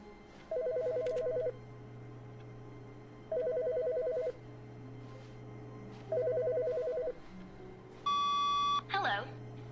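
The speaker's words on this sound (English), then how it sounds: "Because the phone's ringing." A phone rings in The Stanley Parable in three evenly spaced double-pulse electronic trills over a steady low hum, followed by a brief higher beep and a short voice at the end.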